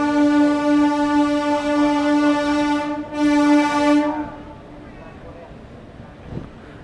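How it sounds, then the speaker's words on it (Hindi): A WAP-4 electric locomotive sounds its horn in two loud, close blasts split by a short break, heard from a coach right behind the engine, then fading into train rumble with a brief knock near the end. "कोच हमारा वेब 4 लोकोमोटिव के साथ इंजन के साथ में ही है, तो इसे ऐसे बार बार हॉर्न की साउंड आपको आ रही होगी"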